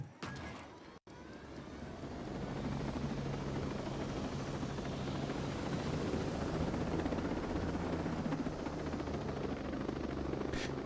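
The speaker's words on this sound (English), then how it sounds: "So this helicopter will be here as long as I don't turn the game off" A helicopter in the video game Ghost Recon Breakpoint gives a continuous, close rotor thrum and turbine whine that swells after a brief cut near the start, then holds steady and fairly loud with no voices.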